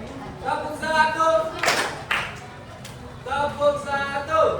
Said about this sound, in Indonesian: Tepuk satu.